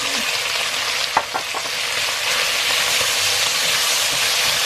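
Pork intestines fry in a wok with star anise, Sichuan peppercorns, cinnamon, dried chillies, spring onion, ginger, garlic and chilli bean paste, giving a loud, dense sizzle with a few quick scraping stirs near the start and no speech.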